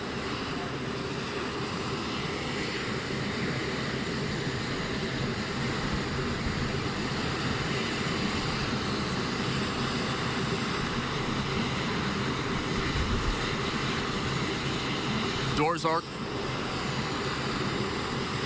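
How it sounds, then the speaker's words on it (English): A Marine One presidential helicopter engine roars loudly and constantly nearby in Kahului, Maui, a steady droning whine that holds throughout without letting up. "The call sign Marine One is reserved for President Biden's helicopter."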